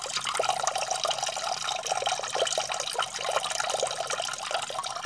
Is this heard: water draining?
yes